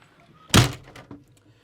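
Bathroom door in a 2020 Lance 825 truck camper swung shut and latched, one sharp thunk followed by a softer click, close and alone.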